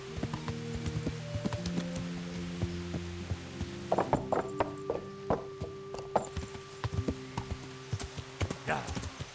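Horse hooves clop in the video game Kingdom Come Deliverance, starting after a few seconds as irregular, fairly close hoofbeats over a low droning hum and game tones, with a voice speaking at moments.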